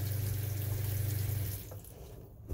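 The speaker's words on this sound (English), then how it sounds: "I have Andrew just check the water coming out." Hot water runs steadily from an outlet on an RV, a close, continuous rushing flow that fades and thins out partway through, as if the tap is being shut off, with no talk over it.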